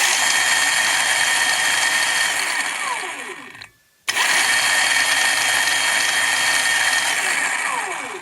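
Electric KLR motorcycle drivetrain spinning in reverse, a steady loud mechanical rattle and whir that cuts out briefly near the middle, then resumes just as loud.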